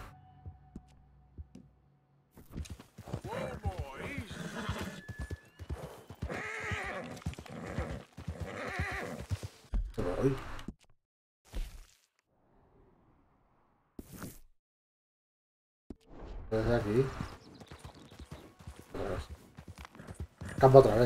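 Horse in the video game Red Dead Redemption 2, with snorts and hoofbeats under a man's speech and intermittent game sounds, quieter gaps between bursts.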